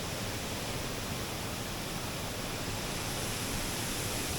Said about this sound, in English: What is this stream? And what is this waterfall?